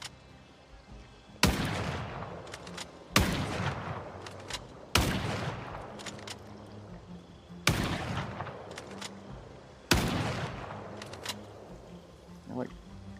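A .308 rifle in a video game fires five loud, single shots spaced a couple of seconds apart, each with a sharp crack and a decaying tail, while a player talks faintly in between.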